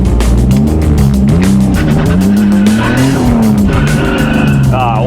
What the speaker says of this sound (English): One wheel peel action.